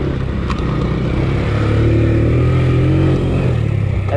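Several Honda FourTrax ATVs ride downhill with a loud, steady engine drone and rumble that swells slightly as they come closer, continuous and near, with no talk.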